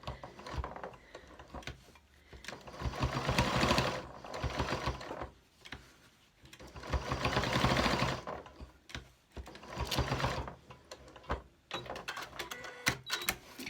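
A sewing machine stitches a small square to attach a wrist band pin cushion, running in several steady mechanical whirring bursts separated by short pauses, with no talk.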